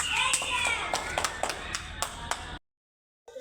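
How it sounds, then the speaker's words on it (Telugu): Several people clap close by at a kids' boat race, a scattered run of sharp claps over about two and a half seconds, with talking mixed in, before an abrupt cut to silence. "ఓ క్లాప్స్."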